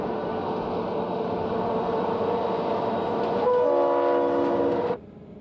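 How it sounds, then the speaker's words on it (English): The westbound Empire Builder passenger train crosses the High Bridge at Cutbank, Montana, in 1948: a steady rolling rail rumble, then a loud, sustained horn blast that ends abruptly in near silence. "Crossing the High Bridge at Cutbank, Montana in 1948, the Empire Builder is heading west on her journey to Seattle."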